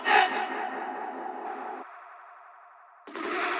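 A dense full-range electronic soundscape in a music track, its layers trailing off with a long echo tail that fades and thins before the full mix slams back in at the end.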